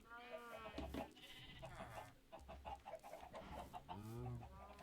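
Game-style farm animal sounds: chickens clucking alongside bleating sheep, busy and overlapping throughout, with a voice talking over them.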